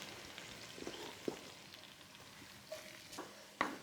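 Onion and grated carrot fry gently in a pan, a Ukrainian sofrito-style base, giving a faint, steady sizzle with a few soft clicks and taps from stirring.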